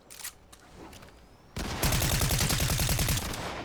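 Fortnite gunfire: a few quiet distant shots, then a sudden loud, rapid automatic burst of evenly spaced shots that continues to the end.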